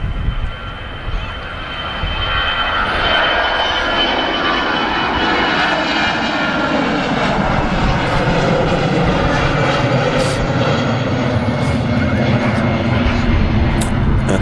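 EasyJet airliner departing Manchester Airport for Munich, its jet engines swelling into a loud, continuous roar that builds after a quieter start and holds steady close by.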